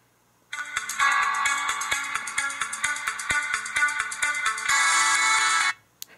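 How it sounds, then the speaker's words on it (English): A bright electronic smartphone ringtone, set off from a Bluetooth tracker, plays a repeating melodic pattern for several seconds, close and steady, then stops abruptly. "Tapping on this for a few seconds will allow my phone to start ringing"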